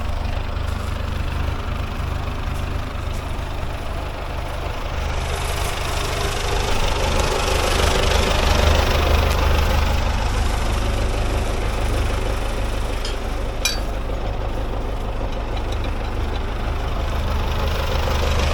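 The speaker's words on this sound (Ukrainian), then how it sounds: "Сьогодні будемо працювати трактором МТЗ 892." An MTZ 892 tractor engine idles steadily in a dry field, a loud continuous low rumble with a slight knocking beat that holds evenly throughout, with no voices.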